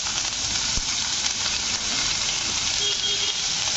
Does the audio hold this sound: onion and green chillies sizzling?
yes